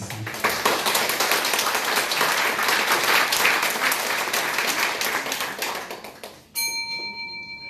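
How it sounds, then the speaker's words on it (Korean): A church congregation applauds together at a Wednesday worship service to welcome a visiting pastor, a dense, steady wash of clapping that holds for several seconds before thinning out, then a bright bell-like tone rings near the end. "그럼 목사님 환영의 박수를 다 함께 했으면 좋겠습니다."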